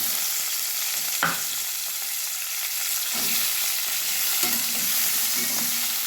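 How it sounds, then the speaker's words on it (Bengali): Sliced onions fry in hot oil in a pan for egg soybean khichdi. A steady, loud sizzle runs throughout, broken by a few scraping stirs of a spatula. "পেঁয়াজগুলো আমি একটু ভেজে নেব, লাল লাল হওয়া পর্যন্ত আমি অপেক্ষা করব।"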